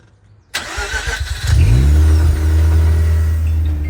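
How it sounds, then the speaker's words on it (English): A Mazda car engine cranks and catches on a cold start, then settles into a loud, steady idle with a deep rumble after a short quiet moment. "cold start time in the Mazda"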